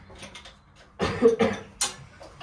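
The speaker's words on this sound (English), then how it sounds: "It's making me cough." A person coughs several times in quick succession, close by, after a quiet moment, inside an OT-64 SKOT armoured car during clutch repair.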